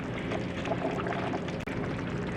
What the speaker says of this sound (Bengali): এবারে আমরা সবকিছুকে আরেকবার একটু ভালো করে নেড়ে চেড়ে দেবো।